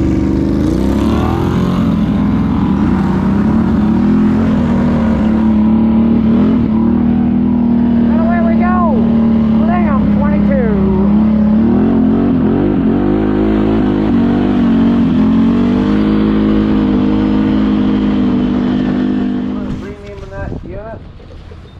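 A Can-Am Renegade ATV engine in sport mode, revving loud and close with rising and falling pitch and heavy wind noise, then dropping away near the end.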